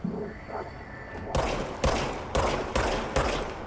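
Gunshots from the player's weapon in the video game Control, five loud, evenly spaced blasts about half a second apart. A quieter, muffled stretch comes before them.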